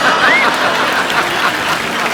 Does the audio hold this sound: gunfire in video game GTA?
no